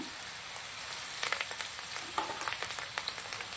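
Onion and curry leaves frying in oil for a South Indian urad dal and rice snack, a steady close sizzle with scattered crackles and small pops throughout, no voices.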